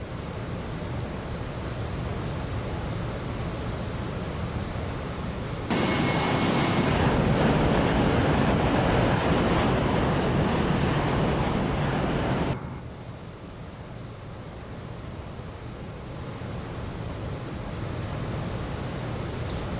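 Fokker airliner engines in Microsoft Flight Simulator 2024 hum steadily as a constant turbine drone, swelling louder for several seconds in the middle before dropping back to a lower, even whine.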